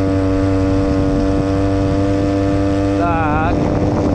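Small engine fitted to a BMX motorized bicycle drones steadily and loudly while riding, with wind buffeting, then briefly wavers and shifts pitch near the end.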